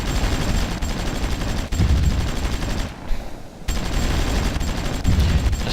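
Gunfire and artillery battle sounds in the Supreme Ruler Ultimate strategy war game form a dense, continuous barrage of rapid shots and booms, loud and constant apart from a brief lull midway, with no talking.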